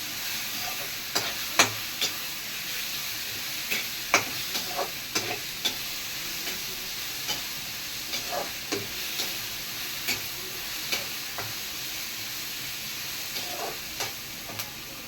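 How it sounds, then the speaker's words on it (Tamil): Green chillies sautéing in a pan for a pirandai pickle give a steady soft sizzle and hiss, punctuated every second or so by light scrapes and taps of a stirring spoon. "பச்சை மிளகா போட்டுக்கலாம் எல்லாத்தையும் நல்லா வதக்கணும்"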